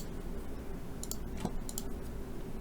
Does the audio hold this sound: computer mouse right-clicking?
yes